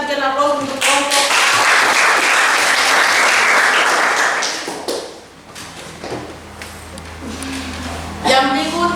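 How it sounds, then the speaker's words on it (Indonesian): A classroom group finishes a presentation and gets a burst of applause, loud and dense for several seconds before it fades out. A voice talks near the end. "silakan sekali lagi kita berikan aplaus untuk kelompok"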